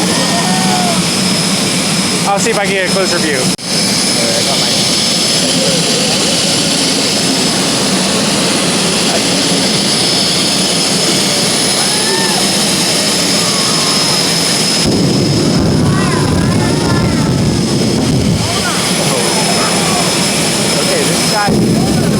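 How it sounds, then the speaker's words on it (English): Loud, continuous roar of jet-powered drag car engines running nearby at night at Keystone Raceway, Pennsylvania, a sustained high-pitched whine and rumble, with someone briefly speaking over it. "you can hear they have the Jet Engine cars lit up right now"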